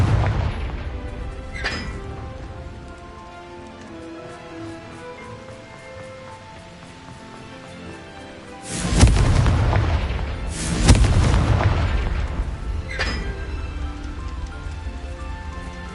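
Fiery Confringo blast spells from the game Hogwarts Legacy: two loud, booming explosions a couple of seconds apart, each with a long rumbling tail, plus a few fainter impacts before and after over a quiet ambient bed.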